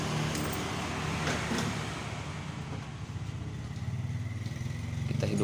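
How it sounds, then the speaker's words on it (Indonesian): A Yamaha Mio GT scooter engine, recently repaired after stalling and losing compression, runs with a steady buzzing drone that settles into a pulsing idle, close and fairly loud. "Kita hidupkan motornya."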